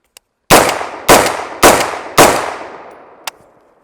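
A rifle fitted with a Liberty LS1 muzzle brake fires four loud, sharp shots in quick, even succession, each with a ringing decay, followed by a faint metallic click.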